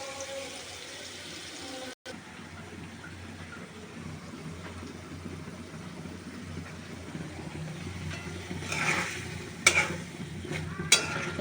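Spice paste and potatoes fry and get stirred in a pan for a katla fish curry with pumpkin bori, a faint sizzle with soft scraping that grows louder and busier toward the end.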